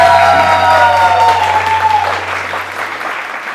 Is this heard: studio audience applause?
yes